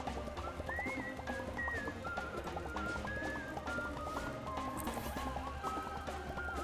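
Whistling plays over game music in Shadows Over Loathing, a thin melodic tune of short rising notes repeated over a busy, steady backing, moderately loud throughout.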